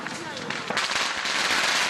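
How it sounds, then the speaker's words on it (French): Firecrackers thrown in armfuls into a huge temple bonfire crackle in dense, overlapping bursts, a loud continuous popping barrage close by, with voices mixed into the noise. "Un gigantesque brasier où nos visiteurs doivent lancer des brassées de pétards pour éloigner"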